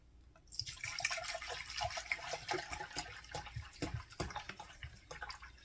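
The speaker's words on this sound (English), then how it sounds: "I'm going to do 3¼ cups of vinegar, white vinegar." White vinegar pours into water for a sun pickle brine, a continuous splashing, gurgling stream with small drips close by and no talking.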